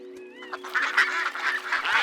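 Cartoon ducks quack and honk in a busy, overlapping flurry at a river scene, loud and close, rising out of a brief tonal musical line.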